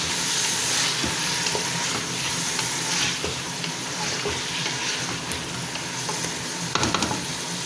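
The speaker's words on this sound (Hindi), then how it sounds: "गोश्त को हमने इसमें फ्राई करना है।" Mutton frying in a pot for aloo gosht, with a dense steady sizzle and hiss and occasional stirring scrapes, loud and close throughout.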